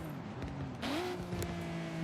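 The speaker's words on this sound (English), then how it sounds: "Love the way that thing sounds on the downshifts." Nissan 240SX engine in Forza Horizon 3 blipping through a downshift, a tonal engine note that dips and then surges back up to a sustained pitch, with a brief sharp click partway through.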